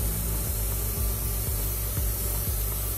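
Air is blown across wet alcohol ink on a coneflower painting, a steady close breathy hiss broken by soft, regular puffs roughly every half second.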